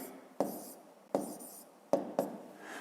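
Numbers being written by hand for a fifth-grade maths exercise, heard as four short, separate scratchy strokes of a pen on paper, close and quiet, with brief silences between them.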